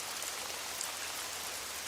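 Steady rain falls outdoors as a soft, continuous hiss of drops, faint and even throughout with no voices.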